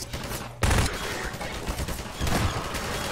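Gunfire in Half-Life 2: a loud burst of rapid shots at close range, then a second volley a moment later, with a faint voice in the background.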